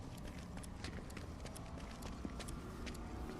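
Faint, distant footsteps of another player in the video game Fortnite, a soft rapid patter of steps running steadily under a low ambient game background.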